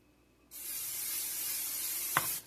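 A sustained close hiss of cooking spray coating a pan for dinner rolls, lasting about two seconds, with a brief clunk near the end.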